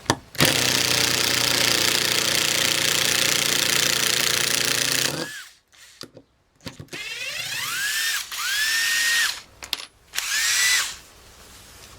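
An old cordless drill runs in reverse with a loud, steady motor whine for about five seconds, then stops and gives several shorter bursts that wind up and spin down.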